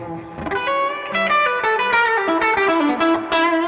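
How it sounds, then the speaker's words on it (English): Electric guitar notes ring out through a Fender Hot Rod Deluxe IV amp's modified spring reverb, wet, with chords and melody sustaining and blending into a shimmering tail. "the modified spring reverb on these Deluxes is no exception"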